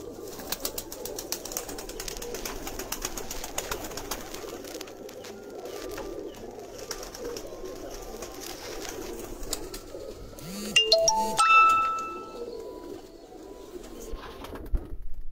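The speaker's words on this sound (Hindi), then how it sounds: "ये लालो कबूतर हैं" Lalo pigeons coo steadily and close in a loft of birds for sale in Sialkot, a low rolling murmur with occasional flutters and a brief louder burst of calling near the end.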